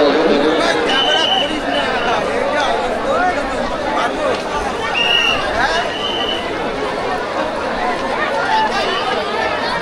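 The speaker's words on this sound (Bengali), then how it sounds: "তো দেখুন কি পরিমাণে সব ভিড় হয়ে রয়েছে" Dense crowd hubbub at the Thakurnagar fair beside a railway platform: constant overlapping chatter from many people, steady and close, with occasional brief higher calls.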